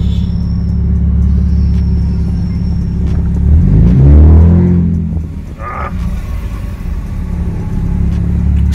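A Mercedes C300 with an X-pipe exhaust mod launching in sport mode from first gear: a loud, deep idle rumble swells into a rising revving roar, then drops back to a steady cruising drone.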